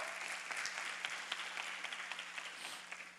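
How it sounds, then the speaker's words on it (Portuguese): A church congregation at a youth service applauds loudly and steadily, a dense wash of clapping with a few sharper individual claps, and no voices on top. "Vamos aplaudir o Senhor bem forte."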